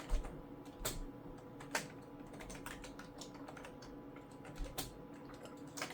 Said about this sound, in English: Typing in an awkward angle.